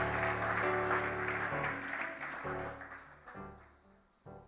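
A church congregation claps and cheers for several seconds, a dense, loud wash of applause that gradually thins and fades toward the end, with a brief swell near the close.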